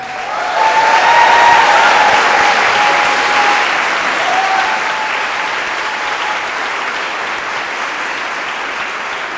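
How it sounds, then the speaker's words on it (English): Applause from the audience at a 2019 graduation ceremony for media studies, international affairs and TESOL graduates, a loud sustained ovation that swells at once and then eases off gradually. "Let's have a round of applause for everyone."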